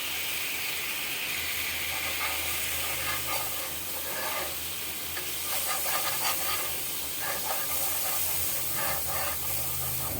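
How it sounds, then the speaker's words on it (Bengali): Chili powder and turmeric frying in a pan for doi begun, a Bengali brinjal-with-curd dish, giving a steady close sizzle and hiss that runs on without pause, with faint stirring scrapes and no voices. "আমার মশলাটা ভাজা হয়ে গেছে।"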